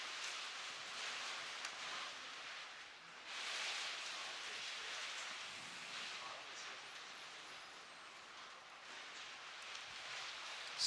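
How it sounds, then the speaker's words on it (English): Steady rain pouring down on an outdoor race track at a Shepparton, Australia racing event, a soft continuous hiss of falling drops heard from a distance, fairly quiet and even throughout. "we see the rain pouring down on the track"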